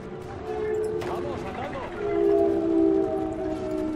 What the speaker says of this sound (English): Hey, train!